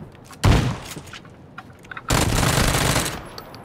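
Gunfire in the video game PUBG Battlegrounds: a loud close shot, scattered quieter pops, then a sustained burst of automatic fire lasting about a second, with no speech.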